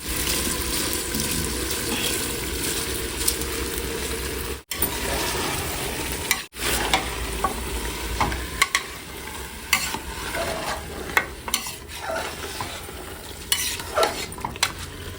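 Soaked rice and its soaking water go into frying biryani masala for a bone-marrow mutton biryani, giving splashing, hissing sizzle and scraping stirring, loud and close, with no talk.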